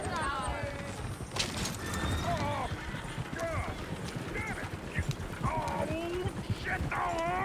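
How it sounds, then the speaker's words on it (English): Horses in the Red Dead Redemption 2 video game whinny repeatedly and their hooves clop steadily, with several rising neighs over a busy, continuous game soundscape and speech running throughout. "Shit, the horses! Damn horses!"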